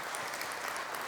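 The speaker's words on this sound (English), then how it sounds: "Can I have a round of applause for all of you that are here?" An audience at a utilities technology masterclass event claps together in a dense, steady burst of applause, brief and somewhat distant, with no speech over it.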